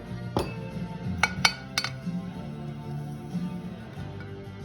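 Spoon or utensil clinking against a bowl while mixing a chicken marinade with herbs, lemon, salt and pepper, a few sharp clinks in quick succession early on over quiet kitchen background.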